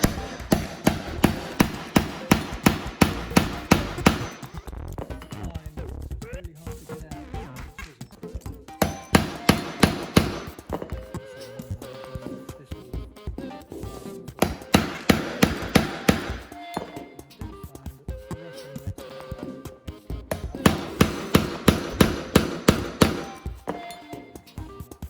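A hammer drives a chisel into a book to hollow it into a safe, with rapid bursts of close, sharp metallic strikes separated by brief pauses and scraping.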